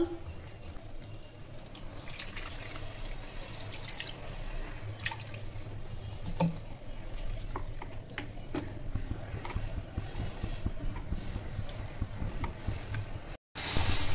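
Water poured into fried spice masala in a pan, a continuous sizzle and hiss with bubbling and scattered drips, heard alone at close range.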